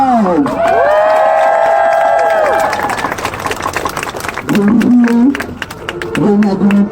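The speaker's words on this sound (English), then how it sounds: "Give yourself a round of applause." A crowd at a Trans Pride march in Kansas City, Missouri, cheers and whoops loudly and close by, with one long sustained yell rising over the mass of voices, followed by scattered shouts and clapping.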